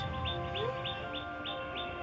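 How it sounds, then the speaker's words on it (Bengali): A bird calls in short, evenly spaced chirps, about seven in two seconds, over a steady background hum. "ওরা গাছে ডাকছে এই যে পাখির আওয়াজ"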